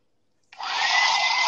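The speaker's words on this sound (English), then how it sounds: "Hair dryer is on hot or cold?" After a moment of silence, a hair dryer switches on at the hot setting and runs with a steady, loud whooshing whine.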